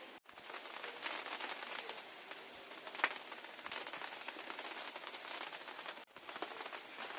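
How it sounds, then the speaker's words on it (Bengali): Rain falling during a storm, a faint, even patter of drops that continues throughout, broken by a brief drop-out near the start and again near the end. "এখন এই দেখো ঝড় বৃষ্টি চলে এলো, বৃষ্টি পড়ছে"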